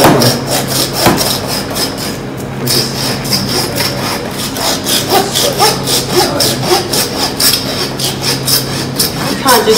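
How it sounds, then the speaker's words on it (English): Hand meat saw cutting through bone, a loud rasping back-and-forth stroke repeated in a quick, steady rhythm, close up. "It's actually a particular meat saw, and it's used and designed just for cutting bone."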